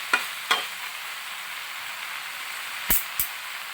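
Mixed vegetables for a kurma sizzle in a pan under a soft, steady frying hiss, broken by a few sharp scraping stirs, two early and two near the end.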